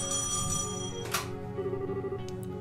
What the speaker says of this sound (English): it starts ringing off the hook as soon as we turn it back on